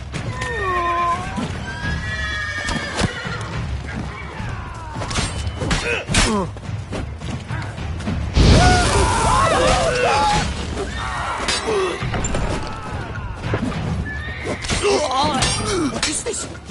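Horses neigh and whinny in The Witcher 3 amid a tense fight, with high wavering calls repeating across the scene, crashes and thuds mixed in, and shouting voices nearby.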